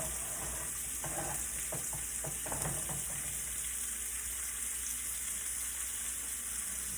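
Seasoning and vegetables sautéing in a pan for a Cajun seafood Alfredo pasta, a steady close sizzle with a few stirring scrapes early on, no voices.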